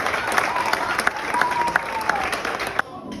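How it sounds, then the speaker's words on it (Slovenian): A wedding audience claps, a dense, steady patter of hands that carries on evenly for several seconds before cutting off abruptly. "Dajmo še enkrat zaploskati"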